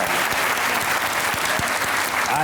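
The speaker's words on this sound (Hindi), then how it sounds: "तालियां बजाएं यार." A studio audience at a Hasna Mana Hai comedy show applauds, with loud, dense clapping that continues throughout and faint voices underneath.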